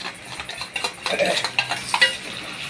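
Fried onion with ginger and garlic stirred in a pan, with repeated scraping and clinking spoon strokes over a low sizzle, close and fairly loud.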